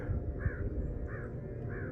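Three rasping crow caws ring out at a steady pace over a low outdoor rumble, fairly near, out by the water at a wildlife area.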